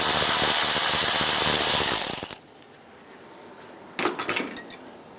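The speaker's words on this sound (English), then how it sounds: "Now pull this bolt out," A ratchet turns a 10mm socket to remove the ignition coil bolt on a 2012-2017 Toyota Camry: a loud, rapid, steady ratcheting clatter for about two seconds stops abruptly, followed by a short burst of metallic handling noise.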